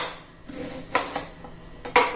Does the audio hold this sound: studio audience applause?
no